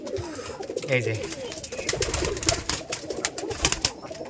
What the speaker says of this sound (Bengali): এটা হচ্ছে মাদি কবুতর, এটাও সেল করব।